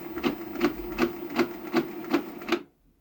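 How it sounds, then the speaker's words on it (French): A malfunctioning Epson inkjet printer mechanism, fitted with a non-Epson ink cartridge, knocks in a steady rhythm of seven evenly spaced mechanical clacks before falling silent, loud and close. "l'imprimante se met à bugger"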